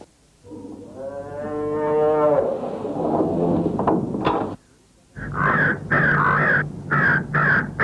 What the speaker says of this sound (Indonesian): Burung gagak itu datang dan mematuk di bagian perut.